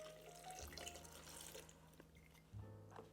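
Water poured into a blender while making plant-based smoked gouda cheese, a short trickling and splashing pour with a tonal hum underneath, ending in a brief knock.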